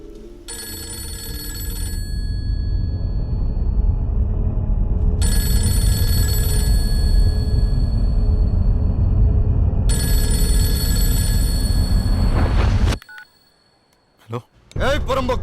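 A telephone rings in three bursts of bright electronic trilling over a loud, busy background murmur, then the ringing stops and the room falls nearly silent.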